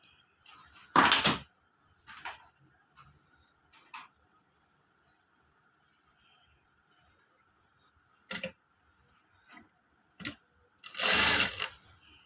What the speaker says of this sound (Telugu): సెకండ్ కూడా అలానే స్టిచ్ వేయండి.